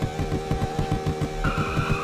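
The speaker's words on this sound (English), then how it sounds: "So that's how you do a burnout in Greenville." Lexus LFA in the Greenville video game doing a burnout, its engine roaring in steady pulses beneath continuous squealing tires, with a higher whine joining partway through; loud and close throughout.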